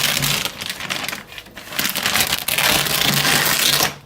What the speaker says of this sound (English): Then I've got the other side of the Velcro on here. And simply pull that off.